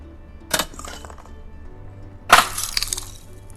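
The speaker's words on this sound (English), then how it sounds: "whether it's for a bottle smashing" Two sharp smashing crashes, each trailing into tinkling, scattering fragments, the second louder and longer, with nothing else around them.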